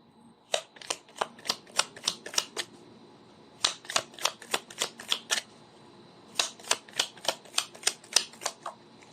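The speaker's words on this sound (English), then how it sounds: "let's pull up some tea leaf fortune cards" Tea leaf fortune cards are riffle-shuffled up close in three bursts of rapid crisp flicks, each run of snaps separated by short pauses, quiet and with no talk.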